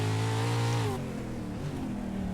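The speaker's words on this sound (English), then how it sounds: "You can just hear the rev limiters on these things just revving out." Race car engines in a Pro Two Lite short-track race at Bark River Speedway, one held high and bouncing on its rev limiter before the pitch drops and a steadier engine drone continues.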